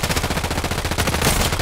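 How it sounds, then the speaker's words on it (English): Rapid automatic gunfire in the video game Call of Duty: a tight burst of repeated shots, loud and close, lasting the whole moment with no break. "He's being shot."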